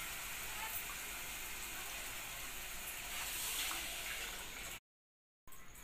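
Water poured into a pot of fried khichdi masala gives a steady, loud hissing rush for about five seconds, then stops abruptly before a short burst resumes.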